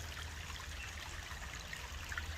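A small river flows in a steady, soft wash of running water, continuous and fairly faint, with no voices over it.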